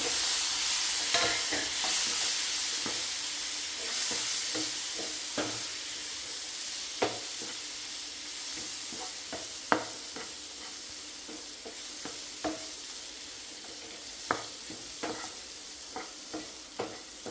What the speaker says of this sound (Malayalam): അപ്പോൾ നമ്മൾ കാടമുട്ട ചേർത്ത് കൊടുക്കാം